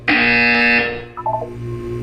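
A buzzer sounds in the Portal 2 video game, a single loud, harsh electronic blast lasting under a second, followed by a quieter tonal chime.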